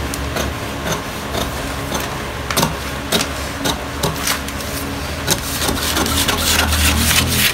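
Batik fabric being cut for a long-sleeve shirt, a steady rough scraping and rubbing texture with irregular sharp snips and taps throughout, fairly loud and close, with no talk.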